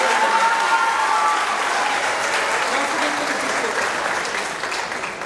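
Sustained audience applause at a sports awards ceremony, a dense, steady wash of many hands clapping that fades slightly toward the end, with faint voices mixed in beneath it.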